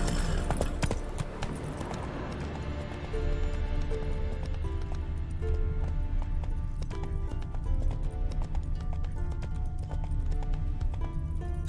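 Horse hooves galloping in the video game The Witcher 3, rapid rhythmic clip-clop hoofbeats continuing steadily under game music and ambience, fairly close.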